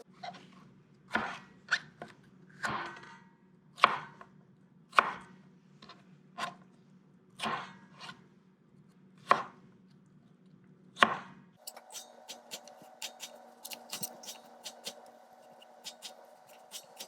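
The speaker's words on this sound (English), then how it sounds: "So we cut into thin strips, as you can see here, and then we're just going to go ahead and dice it" Knife cutting food into thin strips on a cutting board while preparing a salmon dinner, about ten crisp, evenly spaced chops close up, followed by faster, lighter rapid dicing taps.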